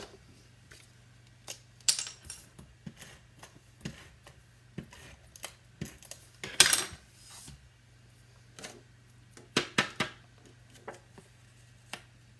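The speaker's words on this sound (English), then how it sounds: "This one, though, I'm going to use the tape runner on." Tape runner dispensing adhesive onto a handmade card at a crafting desk: scattered soft clicks and brief rasping pulls, a few sharper bursts, close and fairly quiet over a steady low hum.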